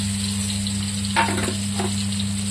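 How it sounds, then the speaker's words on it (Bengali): Bitter gourd pieces frying with spices in a pan give a low, steady sizzle beneath a constant electrical hum, with two brief louder bursts of stirring. "এটা এখন মশলার সাথে একটু ভাজা ভাজা করবো"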